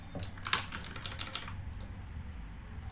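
A website address is typed on a computer keyboard, a fairly faint burst of rapid key clicks that thins out into a few scattered taps. No one speaks.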